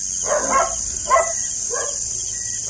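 A dog barks three times near a dog pen, short muffled yelps spaced about half a second apart, moderately distant over a steady high background hiss.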